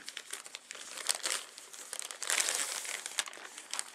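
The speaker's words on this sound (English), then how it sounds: "let's just get it out of the packaging here." A Chrome OS CR-48 notebook is pulled from its packaging, with close, steady crinkling and crumpling of plastic wrap in quick irregular bursts throughout.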